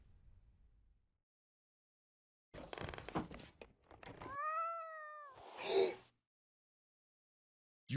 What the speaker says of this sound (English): You better not touch my cat.